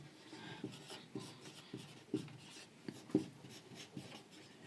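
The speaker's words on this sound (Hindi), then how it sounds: "मैं यहां लिख देता हूं सॉलिड, लिक्विड और गैस।" Chalk or marker writes on a classroom board in a series of short scratchy strokes and taps, close and fairly quiet, with no talk.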